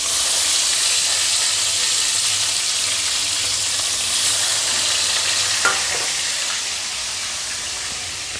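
Pona fish frying in a pan, with a steady dense sizzle and hiss continuing throughout, close and even, with a brief stir or clink near the middle and the sizzle easing slightly toward the end.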